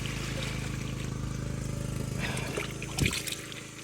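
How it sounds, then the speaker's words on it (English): Gray water from a washing machine drain at an off-grid home, a continuous close trickle of flowing water with a low steady hum beneath and a brief splashy burst near the end. "I'm collecting gray water now from the washing machine"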